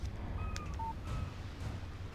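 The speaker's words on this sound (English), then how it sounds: "Text message from Barry." A short electronic text-message chime from a phone in the video game Alan Wake, a few brief tonal beeps over a low, steady background hum, with no speech.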